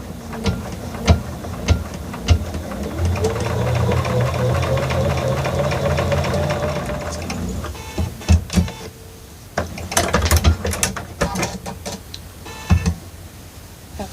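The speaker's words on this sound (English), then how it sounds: "Now I am stitching this on a 1/4 of an inch." Sewing machine stitching quilt fabric pieces at a quarter-inch seam, a steady mechanical whir for several seconds followed by scattered clicks and handling knocks, close and moderately loud.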